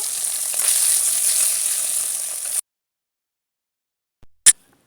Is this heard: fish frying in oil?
yes